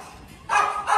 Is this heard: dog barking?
yes